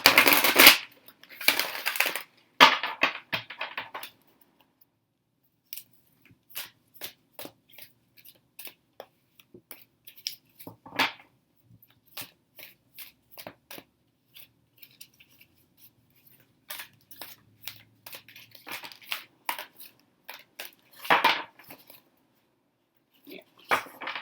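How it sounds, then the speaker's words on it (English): Tarot cards shuffled by hand up close: intermittent quiet riffles, snaps and taps with short silent gaps between bursts. "I will begin the shuffling ritual"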